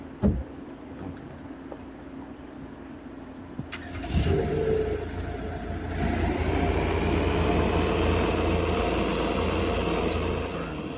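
A sports car's engine starts with a sharp crank, then settles into a loud, rising rev and a steady, close roar.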